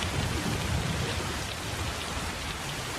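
Steady rain falls outdoors, a dense continuous patter and hiss with low rumbling beneath, fairly loud and unbroken for the whole stretch, with no voices.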